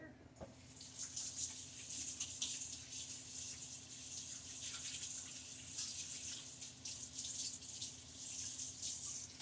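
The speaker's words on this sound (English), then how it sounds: "And I'm going to rinse my hands off." Water running steadily from a kitchen faucet as hands are rinsed, a soft continuous splashing hiss with slight fluctuations from the hands moving under the stream, faint and close.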